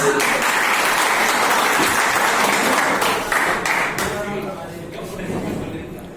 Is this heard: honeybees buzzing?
no